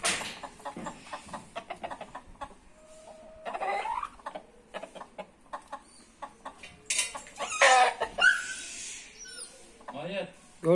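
Aseel (Indian game) chickens in a farmyard, a rooster with his hens, giving scattered close clucks and short calls with a brief crow, interspersed with someone talking nearby.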